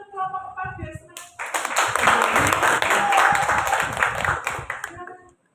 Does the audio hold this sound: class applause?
yes